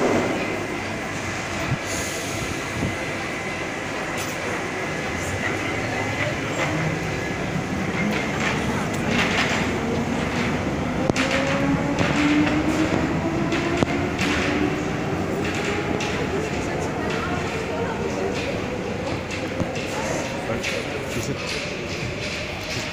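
A Paris Metro line 12 MF67 train, formerly of line 9, pulls away and runs through the tunnel, its motor whine climbing steadily in pitch over a loud rumble of wheels with occasional thumps and squeals, and a voice speaks briefly.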